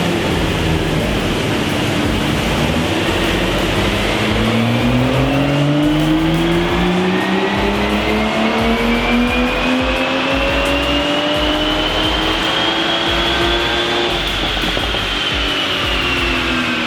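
An Aston Martin DB11 with a stock 630-horsepower engine runs loud and steady on a dyno, its pitch sweeping upward through the gears for about seventeen seconds, close and continuous with no voices.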